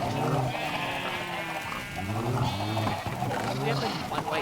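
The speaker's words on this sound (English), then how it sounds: "We have like one white sheep." Sheep in the video game Minecraft give repeated wavering bleats, several in a row, close and clear, while a person talks over them.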